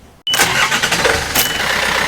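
A boat engine on a dock fires up abruptly after a brief quiet moment, then settles into a steady, loud running roar.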